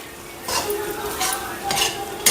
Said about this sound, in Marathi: छान असं मस्त छान हलवून घ्यायचं.